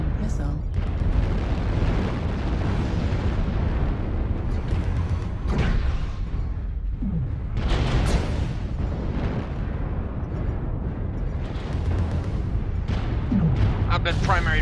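Heavy, continuous rumbling blasts from missile explosions in a mech combat video game, dense and loud throughout with sharper bursts, while players talk over the noise.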